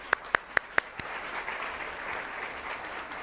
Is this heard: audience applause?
yes